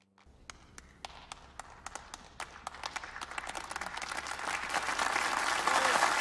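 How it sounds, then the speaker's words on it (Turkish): Applause at a wedding ceremony: a few scattered, sharp claps quickly multiply and swell into loud, continuous clapping from the gathered guests over about six seconds. "Alkış."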